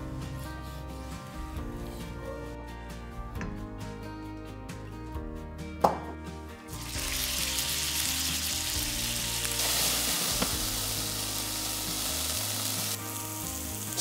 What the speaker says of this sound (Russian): нужно нарезать куриное филе соломкой и обжарить его до золотистой корочки